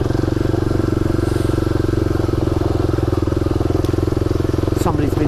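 A motorcycle engine drones steadily and close, with a fast, even pulsing as it is ridden along a rutted dirt track. Faint rattles and a brief higher chirp come near the end.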